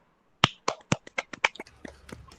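A handful of sharp hand claps ring out in a classroom, about ten quick, uneven slaps that begin loud and thin out as they fade. No voices are heard.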